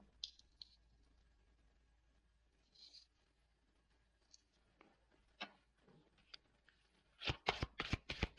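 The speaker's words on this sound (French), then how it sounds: "Je vais tirer quelques cartes complémentaires." Tarot cards shuffled and drawn, heard alone as faint scattered snaps and flicks early on, building to a rapid burst of loud riffling and slapping card sounds near the end.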